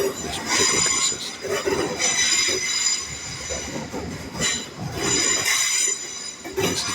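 Passenger train on a Wolverhampton to Marylebone run rolling along the rails, a steady close rumble with rhythmic wheel clatter and occasional high squeals, no voices.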